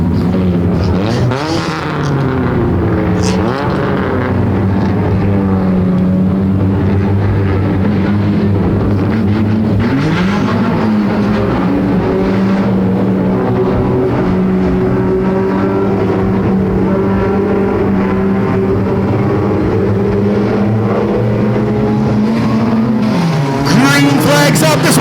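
Bone stock race cars circle Sunset Speedway. Engines drone and rise and fall continuously as cars pass under a loud, steady wash of track noise, and a voice talks over it throughout.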